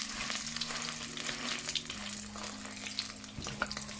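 Saltfish fritters fry in a pan with a constant, busy crackling sizzle that holds at an even level throughout, alone with no voices.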